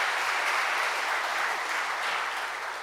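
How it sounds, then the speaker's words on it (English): Audience at a presidential export achievement awards ceremony giving an honoree another round of applause; thick, continuous clapping from a large room, loud and steady with no talk over it. "All right, you can give him another round of applause."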